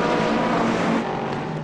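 A loud, sustained engine roar as race cars, including a Ferrari and a Porsche, pass at Barcelona, with a smooth pitch shift as one goes by up close, no talk.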